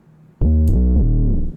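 A thick, buzzing synth bass note with detuned saw layers swells in after a brief click and sustains loudly before fading.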